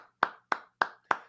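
Four sharp hand claps in an even, steady rhythm, close and distinct against a quiet background with no talking.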